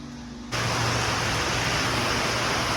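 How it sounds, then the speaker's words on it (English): After a quieter half second, heavy rain comes on as a dense, steady hiss and drumming that fills everything, with a low hum underneath. "it's pouring down rain right now"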